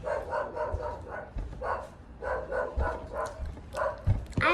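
Dogs bark in a neighborhood in repeated bursts at a moderate distance, with a few quieter gaps between volleys.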